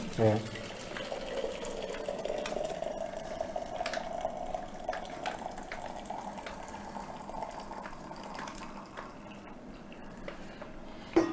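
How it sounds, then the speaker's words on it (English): Hot water pours steadily from a flask into a cup for making coffee, a continuous gushing fill that rises slightly in pitch over about ten seconds before stopping. "I pour in my hot water."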